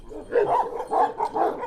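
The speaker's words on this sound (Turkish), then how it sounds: "Çok gövdeli kalın bir köpek yani." A thick-bodied Kangal shepherd dog from a flock on the Altınyayla plateau in Sivas barks three times in a steady rhythm, each bark loud and close, with no one speaking.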